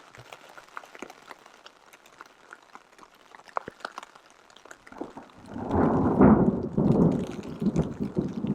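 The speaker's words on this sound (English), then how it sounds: "I just had a flash, so we'll have thunder now." During rain at a campsite beside a crackling fire, scattered drops tick and pop. Then a low, rumbling roll of thunder swells in about halfway through and grumbles on to the end.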